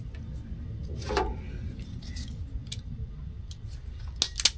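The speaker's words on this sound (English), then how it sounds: "All right, so I'm gonna cut this blue wire real quick." A blue wire being cut with cutters while wiring a fan for a radiator on a 1978 G-body Malibu, a few short, sharp snips and clicks up close over a quiet background.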